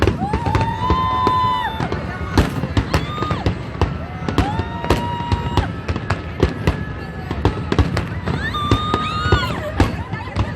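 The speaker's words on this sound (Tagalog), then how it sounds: "Fireworks sa Hong Kong." A Chinese New Year fireworks display over Hong Kong fires loud, rapid bangs and crackles, with whistling rockets rising between them, under crowd noise and scattered voices throughout.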